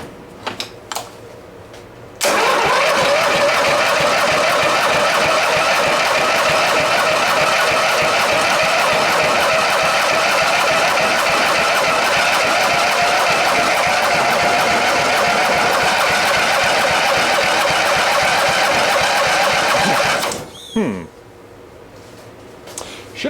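An Allis Chalmers tractor engine being resurrected cranks continuously for about eighteen seconds, a loud, rapid rhythmic churning that starts abruptly and stops, with quieter moments and faint voices before and after.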